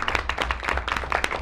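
Students applauding at a school board of education meeting, a brief burst of brisk, dense clapping, close and fairly loud.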